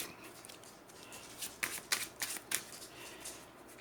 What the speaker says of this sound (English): I will shuffle the hero deck.